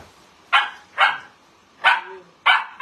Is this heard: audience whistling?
no